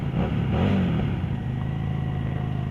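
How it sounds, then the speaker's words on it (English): A 2015 Harley-Davidson Street 750 motorcycle engine pulls away and accelerates, a loud, close, low rumbling drone that swells briefly near the start and then holds steady, with no talking. "The sound of this bike though, the sound is awesome. The sound is awesome. Especially when you first gun it off the line."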